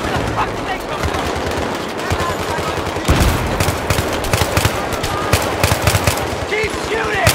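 Battlefield 3 combat: dense, continuous automatic gunfire with rapid bursts and heavy thumps, loud and close throughout, mixed with shouting voices in the chaotic battle.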